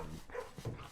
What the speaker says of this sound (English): Look at the doggos.